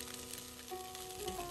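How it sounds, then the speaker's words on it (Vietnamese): Vegetables and pumpkin-colored rice being stir-fried together in a pan for egg fried rice: a faint, continuous sizzle with light scraping and stirring, without any talk. "Cả nhà đảo đều ha, cho rau củ gần chín, mình cho cái phần cơm bí đỏ vào."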